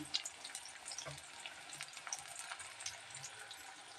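Small shallots, garlic and ginger sizzle steadily in hot oil for a chutney, a soft, even crackle with a few stirring clicks and no voices.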